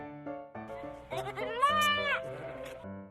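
A goat bleats in a children's fairy tale: a short, wavering, nasal cry that rises and quavers in the middle, heard close and clear on its own.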